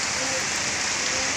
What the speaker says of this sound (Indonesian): Ini kita lagi kelucut, lagi kehujanan